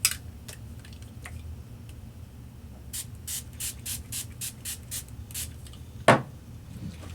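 A quick series of about nine short spray bursts of ink mist onto a manila tag in a steady rhythm, preceded by a few scattered pumps, then a single sharp click.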